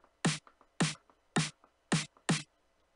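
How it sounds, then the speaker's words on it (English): A sampled snare drum repeats five times at an even pace, each hit a sharp, bright crack with a short tail, quiet ghost notes in between and no voices. "Lastly, our snare drum."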